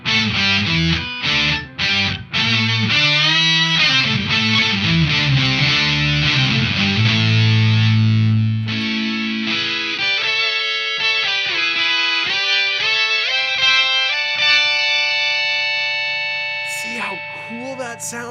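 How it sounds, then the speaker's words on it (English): Fuzz-distorted Bass VI guitar playing a lead line with sustained, buzzy notes that thin to a held tone and decay, loud and close with no talking. "Now when you introduce the fuzz into that"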